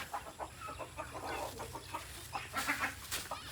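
A flock of chickens, including broilers, clucks continuously, close and fairly loud, with ducklings peeping among them over a steady low rumble, indoors in a room.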